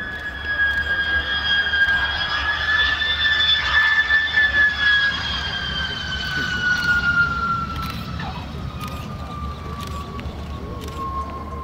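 Saab J29F Tunnan jet fighter flying a solo display at the NATO Days 2015 airshow: a loud, whining engine roar sweeps past with a falling pitch, then fades gradually into a distant rumble.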